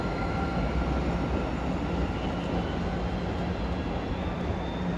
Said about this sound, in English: Train just arrived from Boston.